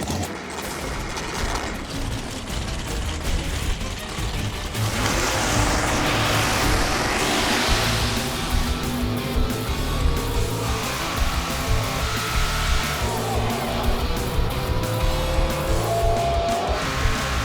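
Drag race cars launching at Route 66 Raceway in a cash race for the 8-second All Out class, with loud, sustained engine roar and tire noise rising around the two-second mark and holding steady to the end, no talk.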